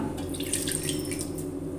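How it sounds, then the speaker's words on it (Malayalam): Water poured into a paste of ground coconut, small shallots and garlic, a steady close trickle and splash of running liquid with faint dripping, with no voices. "ഇനി അതിലേക്ക് ഈ വെള്ളം"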